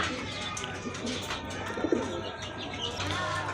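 A pair of pigeons for sale coo softly close by, low throaty calls amid a busy market background with some chirping, and no clear talk over them.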